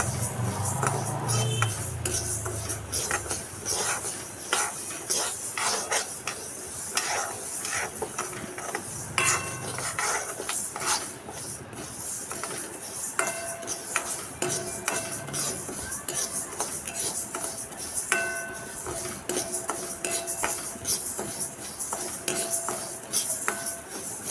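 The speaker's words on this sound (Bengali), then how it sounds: "এটাকে শুকনো খোলায় দিয়ে লালচে করে ভেজে নেবো" Mung dal dry-roasting in an empty pan, with continual scraping and clinking of a metal spatula against the pan, steady and close over a soft background hiss.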